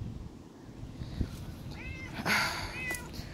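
A cat meows outdoors in a vegetable garden during pea planting, two or three rising, wavering calls, moderately close, over faint background rustle and no speech.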